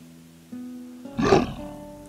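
A single short growl from a wolf companion in Octopath Traveler rises over soft background music, close and rough, lasting about half a second.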